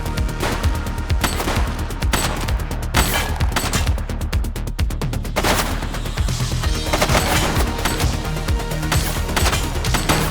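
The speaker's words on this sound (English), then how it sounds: "She's shooting!" Rapid gunfire in the video game The Precinct, sustained bursts of automatic shots rattling loudly and densely, with brief gaps between volleys, continuing throughout.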